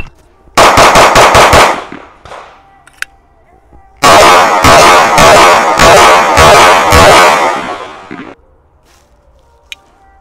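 Rapid strings of pistol shots from a CZ Shadow 2 Compact on a shooting range, one burst of about six sharp cracks followed after a pause by a longer volley of roughly eight, loud and close with quiet gaps between.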